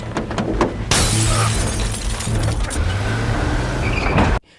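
Car window glass smashed in a gangster film scene: a sharp crash opens into a dense burst of shattering and crackling over vehicle rumble, with scattered knocks and impacts before a sudden stop.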